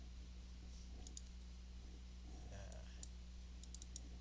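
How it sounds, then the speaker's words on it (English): A computer mouse is double-clicked several times, giving quick, faint, close pairs of sharp clicks spread over a few seconds against a low electrical hum. "I'm just double clicking on them"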